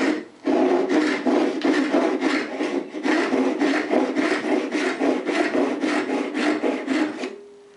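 A cheap tenon saw cross-cuts oak at a dovetail angle in close, rapid back-and-forth rasping strokes, about twenty steady pulses, ending abruptly with a brief tone.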